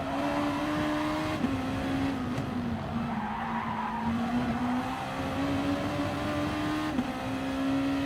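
Gr.2 race cars lapping the Red Bull Ring in GT Sport, with loud, continuous engine drone and sustained tire squeal through corners, shifting pitch as the cars brake and accelerate.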